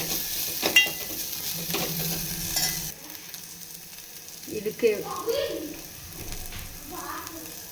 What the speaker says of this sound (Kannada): ಜಜ್ಜಿರೋ ಅಂಥ ಶುಂಠಿ ಬೆಳ್ಳುಳ್ಳಿ. ಇದು ಸ್ವಲ್ಪ ಈ ಥರ ಹಸಿ ಸ್ಮೆಲ್ ಹೋಗೋವರೆಗೂ ಹುರ್ಕೋಬೇಕು